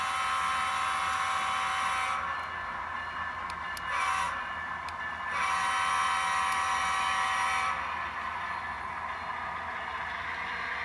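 A model train locomotive pulling shiny hopper cars in Chessie livery runs on a layout, a steady rumbling rail drone that holds throughout with brief shifts as it approaches, heard alone without talk.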